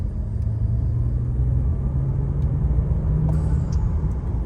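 A 2011 BMW 535i fitted with an MST cold air intake, driving with a steady, loud low engine drone and road rumble throughout, no talking.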